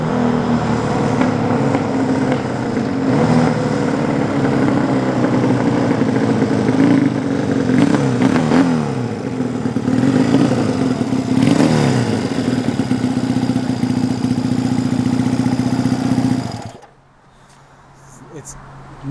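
A Honda Dream motorcycle engine, freshly converted with carburetors under tuning, runs steadily and loudly at close range for about seventeen seconds, with a few rising revs partway through, then cuts off abruptly into near silence.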